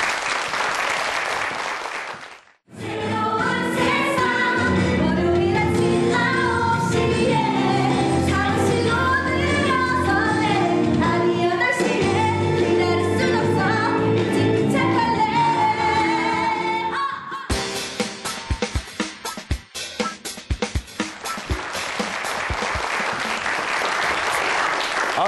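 A studio audience applauds loudly and steadily to welcome a guest onto a Korean television talk show, a dense unbroken wash of clapping that pauses briefly, then resumes and fades.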